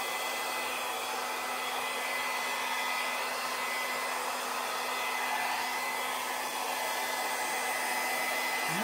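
A hair dryer blows a steady, even stream of air to push acrylic pour paint across a large canvas in a Dutch pour, a continuous close whirring hiss with no talking.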